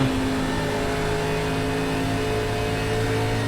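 An ARCA race car in the iRacing game at Atlanta Motor Speedway holds a loud, steady engine drone at high revs, continuous and close for the whole stretch, with no talking.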